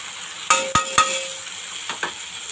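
Onions frying in a pan as a ginger, garlic and green chili paste is added: a few metal utensil clinks and scrapes over a soft, steady sizzle, close by, with no speech.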